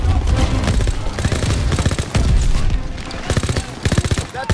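Machine gun fire in Call of Duty WW2, loud rapid bursts of automatic shots in quick rhythmic strings, mixed with heavier thumps of battle.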